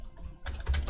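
Quick bursts of typing on a computer keyboard, several close, clicky keystrokes in a short run with no talking.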